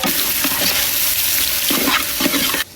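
Finely chopped onion hits hot oil already holding cumin, ginger, garlic, green chili and curry leaves for dal tadka, giving a close, steady sizzle broken by repeated scraping stirs of the pan, with no talking.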